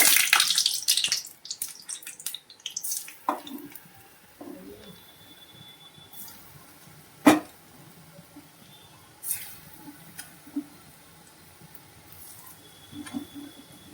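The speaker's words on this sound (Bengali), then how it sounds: "একটু জলে হাত দিয়ে নেব" A hand dips into water while palm fritters are being shaped, giving a brief splashy burst at the start before things go quiet, with only a few faint knocks and drips afterward.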